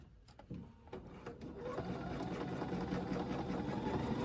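A sewing machine quilting a block while the ruler is turned instead of the quilt, starting with a few stuttering stitches and then settling into a steady, continuous whirring hum, close and alone.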